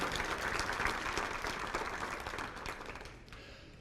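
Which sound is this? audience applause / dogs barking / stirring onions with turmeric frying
audience applause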